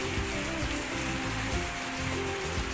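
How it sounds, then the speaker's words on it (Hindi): Very heavy, sudden downpour of rain drumming steadily on surfaces nearby, a dense continuous roar with no pauses and no voices. "एकदम से बहुत तेज़ बारिश हो रही है"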